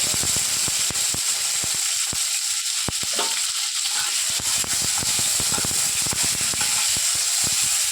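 Tomatoes and green chillies frying in a pan after a five-spice tempering, a steady close hiss and crackle with frequent sharp clicks and scrapes from stirring, no talk.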